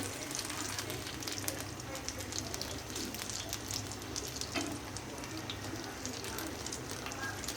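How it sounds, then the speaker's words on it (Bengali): Beguni, battered eggplant fritters, frying in plenty of oil on a gas stove, a steady low sizzle with occasional faint pops and a person talking quietly over it. "এই যে আমি বেগুনিটা ভাজতে শুরু করলাম।"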